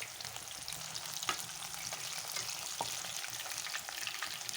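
Chicken pieces fry in oil in a pan, crackling and sizzling steadily up close, with a few sharp spoon-scrape clicks as they are stirred; no voices.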